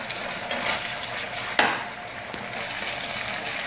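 Chicken spaghetti sauce with tomato ketchup and pepper is stirred over a low flame, giving a soft steady sizzle. One sharp scrape of a utensil against the pan stands out midway.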